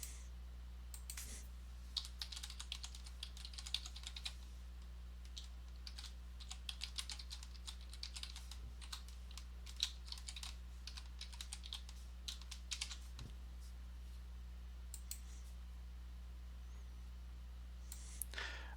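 Quiet, steady typing on a computer keyboard while entering login details on a Linux Mint setup, a long run of soft close key clicks with brief pauses, no voices over a low electrical hum.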